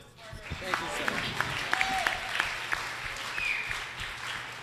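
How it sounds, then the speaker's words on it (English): Audience applause at a mayoral forum in a theater, a steady patter of clapping from a crowd with some voices mixed in, building quickly and sustained for several seconds. "please, big round of applause, Melvin Carter."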